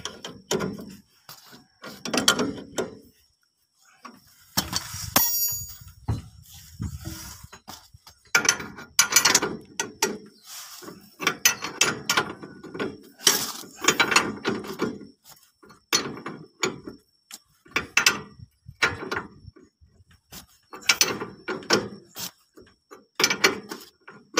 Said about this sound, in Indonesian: sekarang kita kencangkan mur bagian belakang